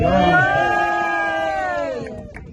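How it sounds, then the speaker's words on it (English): A rally crowd cheers and whoops loudly, a dense mass of raised voices sustained for about two seconds before tapering off at the end. "Let's have a cheer for Kneecap."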